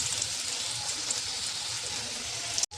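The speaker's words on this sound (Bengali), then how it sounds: "এবারে আমি আলু দিয়ে সুন্দর করে ভেজে নেবো আলুগুলোকে।" Small whole potatoes fry in hot oil in a kadai with a pinch of turmeric and salt, giving a dense, even sizzle like steady rain that cuts off abruptly at the end.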